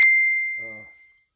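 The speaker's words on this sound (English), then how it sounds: "Oh, forgot to silence my phone again." A single bright phone notification ding rings out close and clear, then fades slowly over about a second while a short, soft voice-like tone briefly rises underneath in an otherwise quiet room.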